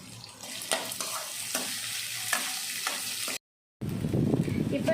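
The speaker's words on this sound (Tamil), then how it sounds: "கருவேப்பிலை எல்லாம் ஒன்றா போட்டு வதக்கிக்கலாம். எல்லாம் ஒன்றா போட்டு நல்லா வதக்கிக்கலாம்." Onions and curry leaves sauté in a pan for poha upma, a steady sizzle broken by a few scraping stirs, close and alone, with a short silent gap before louder frying resumes.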